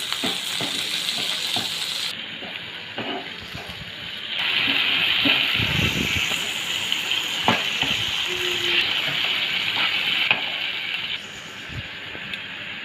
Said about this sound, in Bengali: আবার নেড়ে নেব।